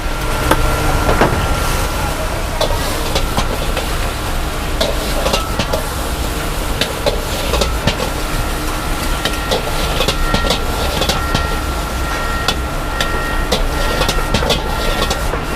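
Fried rice stir-fried in a large wok at a busy market food stall, a continuous loud hiss and roar of frying with rapid metallic clanks and scrapes of the spatula against the wok throughout.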